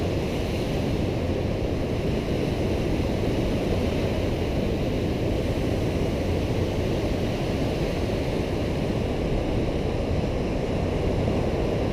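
Pacific Ocean surf on the Washington coast, a continuous broadband wash of breaking waves mixed with wind buffeting the microphone, steady and loud with no voices.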